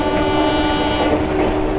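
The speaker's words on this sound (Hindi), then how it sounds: "क्या हॉर्न आ रहा है गाइस," The melodious horn of an ICF Swarn Jayanti Rajdhani train, halted at a signal, sounds as one loud, sustained, steady tone heard close up.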